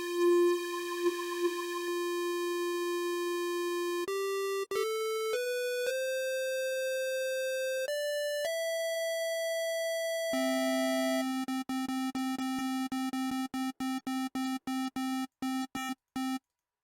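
Synthesized electronic tones from the Native Instruments Massive software synthesizer step through different pitches, first sustained and gliding, then turning into rapid, evenly pulsed beeps toward the end.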